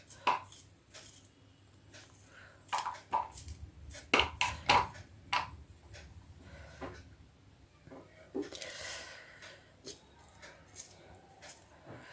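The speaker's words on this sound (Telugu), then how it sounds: "ఇప్పుడు ఇవైతే అన్ని చిన్న చిన్న ముక్కలు అయితే చేసుకుంటున్నాను" A knife chops onion into small pieces on a board, irregular sharp taps, some in quick bursts and others spaced apart, with faint talking in the background between cuts.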